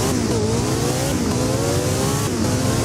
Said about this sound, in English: One of my favorite things about this car, which is very underrated, is the car sound.